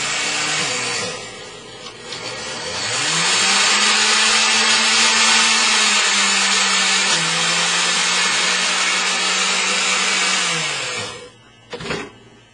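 An electric mixer whirs steadily through a thick chocolate dessert mixture, starting after a brief scrape, holding a loud, even motor drone for most of the stretch, then cutting off near the end with a short clatter.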